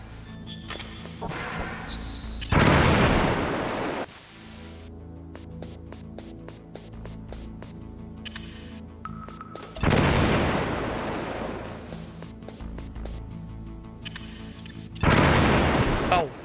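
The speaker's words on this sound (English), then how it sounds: "I threw a grenade for some reason" A thrown grenade blasts in Metal Gear Solid (MGS1): three loud, broadband explosion bursts with decaying rumble, roughly seven seconds apart, over steady game music and ambience.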